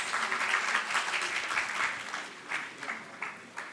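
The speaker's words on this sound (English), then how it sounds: "let's have a huge round of applause for our speakers" Conference audience at a national railway modernization session applauding the speakers, a dense, steady round of clapping that thins into scattered claps toward the end.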